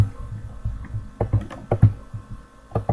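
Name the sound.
typing on a computer keyboard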